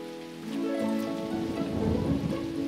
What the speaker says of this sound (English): Let's get inside until the storm is over.